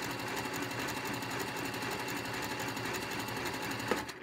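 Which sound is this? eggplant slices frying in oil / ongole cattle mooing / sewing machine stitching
sewing machine stitching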